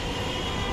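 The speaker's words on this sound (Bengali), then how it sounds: "উপর দিয়ে ট্রেন চলে যাচ্ছে মেট্রো রেল" A metro rail train runs overhead above the Karwan Bazar road and station, producing a steady, loud broadband rumble and rush throughout, with no talk.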